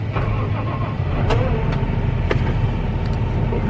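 A harvest machine's engine restarts in a field at harvest time, a loud steady mid-pitched rumble that swells slightly after the first second, with a few faint clicks and knocks over it.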